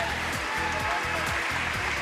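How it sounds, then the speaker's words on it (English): English players applauding at the Glasgow 2014 Commonwealth Games, a steady wash of crowd clapping heard under a commentator's voice. "the English players applauding her"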